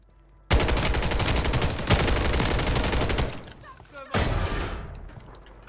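Sustained automatic gunfire in Call of Duty Warzone, rapid loud bursts rattling close by, broken by a brief lull before another burst resumes.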